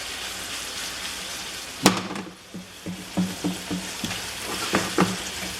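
Red onions frying in a pan with bacon fat, oil or clarified butter, seasoned with salt and pepper: a steady sizzle with a sharp clatter near the start, followed by a series of soft rhythmic stirring scrapes.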